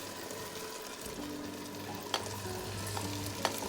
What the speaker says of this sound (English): We're gonna mix it for 2 minutes in here, and then we're gonna add beans.